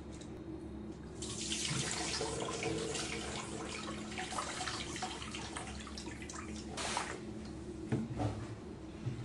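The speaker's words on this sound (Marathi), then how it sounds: "हे असं 2-3 वेळा तांदूळ धुवायचे आणि जे पाणी निघेल ते या कढईमध्ये ओतायचं" Rice-washing water pours and splashes into an iron kadhai, a steady rushing flow that starts after a brief pause and runs on with gurgling surges, fairly quiet and close, with no voices.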